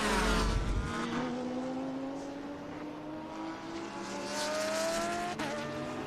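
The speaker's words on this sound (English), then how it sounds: "The Lamborghini just passes us here." A Lamborghini race car sweeps past on the VIR circuit during an SVRA race weekend, its engine note climbing steadily in pitch as it accelerates by, loud and close, with a brief sharp burst near the end.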